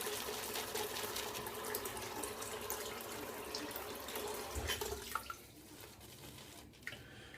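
Water runs from a tap in a steady close stream while a shaving brush is lathered in a bowl, the flow easing off near the end with a few small drips and knocks.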